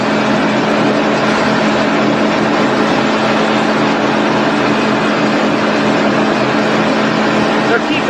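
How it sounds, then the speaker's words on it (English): A boat's twin screw engines running, a dense continuous roar and churning drone that stays loud and steady throughout, with a voice shouting faintly over it. "You can hear the twin screws going in the background as he's yelling over it."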